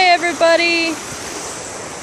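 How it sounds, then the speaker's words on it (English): A steady rushing roar of an outdoor waterfall fills the scene, a broad continuous wash of falling water, with a person's voice briefly heard over it at the start. "We're here by a beautiful waterfall."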